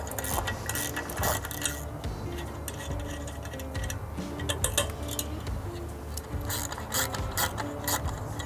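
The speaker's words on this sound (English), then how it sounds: "The next step is to remove these two bolts." Ratchet wrench clicking rapidly while bolts come off a motorcycle bag mount, steady close mechanical ticking at a soft level.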